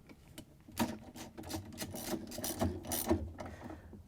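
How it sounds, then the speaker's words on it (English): A ratchet turning a 7/16 inch socket on a long extension tightens the agitator bolt of a Whirlpool washer, producing quiet, close, irregular ratcheting clicks in quick strokes over a few seconds. "we can grab our 7/16" socket with the long extension and tighten down"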